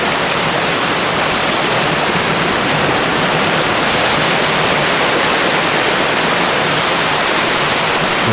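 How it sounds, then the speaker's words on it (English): Water pours off a rock ledge at Hawn State Park in a loud, steady rushing roar, close and continuous, with no voices. "Nice little ledge for the water to shoot off."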